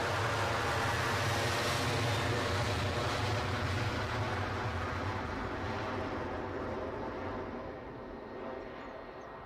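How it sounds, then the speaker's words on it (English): A United Boeing 757 arriving at Edinburgh airport, its loud, broad jet roar sustained and gradually fading over several seconds. "757 arriving."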